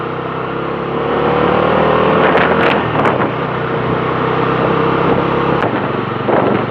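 A car engine labors uphill in first gear on a hill road in Karnataka, with a steady, strained drone and wind buffeting the microphone.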